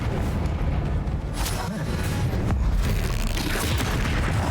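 Confringo fire-blast spell explosions in the Hogwarts Legacy game, loud continuous booming and rumbling combat effects with crackling bursts layered over a dense low roar throughout.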